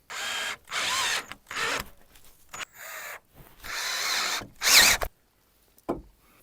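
A power drill runs in several short bursts of whirring, each a second or so long, separated by brief pauses, close and fairly loud.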